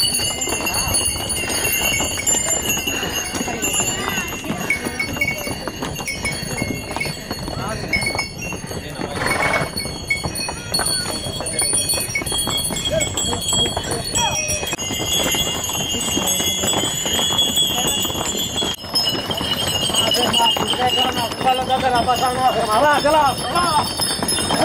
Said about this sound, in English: Donkey barking chaos.